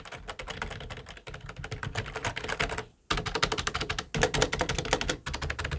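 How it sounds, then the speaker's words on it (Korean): Rapid typing up close on a budget membrane keyboard, a dense stream of loud clacky keystrokes with a brief pause midway before the clatter resumes. "직접 타건한 감을 좀 들려드리도록 할게요"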